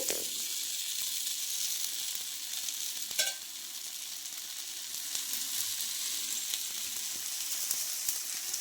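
A rice flour dosa crisping in oil on a pan over high heat, an unbroken, dense, loud sizzle and crackle throughout, with one brief clink of a utensil near the middle; no speech.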